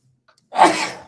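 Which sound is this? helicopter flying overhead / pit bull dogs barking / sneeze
sneeze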